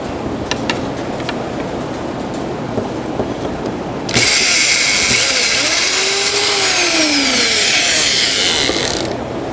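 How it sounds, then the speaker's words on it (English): A right angle drill whirs loudly and steadily for several seconds during restoration of an antique chest of drawers, starting abruptly midway after some quiet shop noise and light knocks. "you thought I'd never find a use for this right angle drill"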